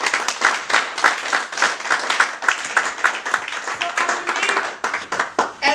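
A church congregation at an annual Twi gathering in the Bronx claps steadily for several seconds, a dense, continuous spatter of hands filling the room, with a few voices faintly mixed in.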